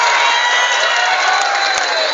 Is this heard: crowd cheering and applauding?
yes